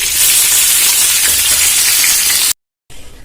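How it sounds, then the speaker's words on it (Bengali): Pomfret fish frying in oil, a loud, steady hiss of sizzling that fills the clip, cutting out abruptly into a short silence before resuming at the end, with no talking. "মাছগুলো খুব ভালো করে ভেজে তুলে নেব।"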